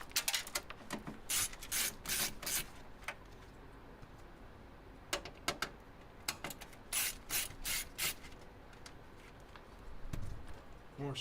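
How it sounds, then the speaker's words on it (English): Screws being removed from a PC case during a computer repair: a run of small metallic ticks, rubs and scrapes in irregular clusters, close and fairly quiet, with occasional pauses between them. "More screws off."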